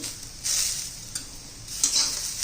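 Bitter gourd sautéing with onions, garlic and coriander in a pan, giving a soft steady sizzle with short bursts of stirring scrapes, close and moderately loud, no voices.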